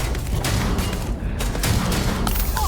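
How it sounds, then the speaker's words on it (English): Grenade blasts in Starfield, a run of sharp booms and bursts in quick succession, loud and close amid chaotic combat noise. "There's Sarah with the grenades again"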